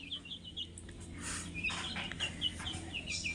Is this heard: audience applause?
no